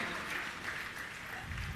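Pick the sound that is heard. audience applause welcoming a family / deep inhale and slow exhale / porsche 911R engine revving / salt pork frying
audience applause welcoming a family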